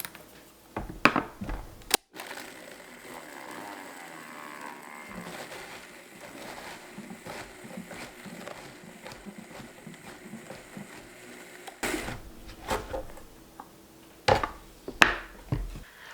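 A Vitamix blender grinds freeze-dried dill pickles and relish into powder with a loud, continuous whirring roar, and sharper clattering bursts come at the start and end as the pieces are handled.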